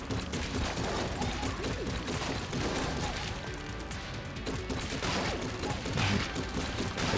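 Continuous rapid gunfire from an overpowered weapon in the video game Enter the Gungeon, a dense, steady stream of shots that stays loud and unbroken from start to finish.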